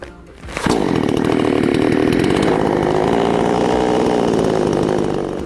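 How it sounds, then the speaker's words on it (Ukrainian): A Vitals chainsaw engine starts with a pull and settles into a loud, steady idle close by during break-in, running continuously without revving. "Далі знову запускаємо двигун пили на холостих та працюємо ще 15 хвилин."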